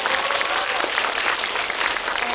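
An audience applauds a film director at a Korean movie screening Q&A, steady dense clapping filling the room without pause, with a faint voice murmuring underneath.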